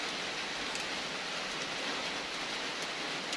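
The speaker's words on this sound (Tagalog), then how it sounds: "Narinig niyo yung ano? Yung huni ng ulan." Steady, hissing rainfall pattering continuously on surfaces, moderately quiet and unbroken throughout, with no voices.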